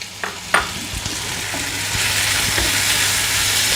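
Curry leaves drop into hot oil with a couple of sharp pops, then a steady loud sizzle fills the rest, close up.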